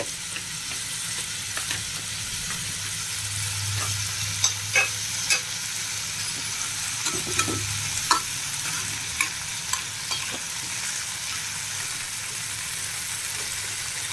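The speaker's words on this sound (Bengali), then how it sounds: "এখানে আমি একসাথে এগুলো দিয়ে দিচ্ছি, একই সাথে সবগুলো ফ্রাই করে নিচ্ছি" Tomatoes, green chili, bay leaf, chopped ginger and spices frying together in a pan, a steady close sizzle broken by repeated stirring clinks and scrapes.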